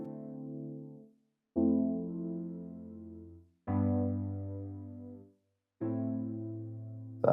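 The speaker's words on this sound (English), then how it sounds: "A nice little paddy synth." Four soft, sustained synth pad chords, each swelling in and fading out, separated by brief gaps of silence.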